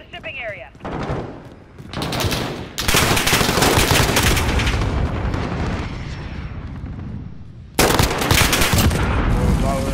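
AN-94 rifle fire in Modern Warfare 2020, loud bursts of automatic gunfire in close, dense volleys with brief pauses between, alongside a talking voice.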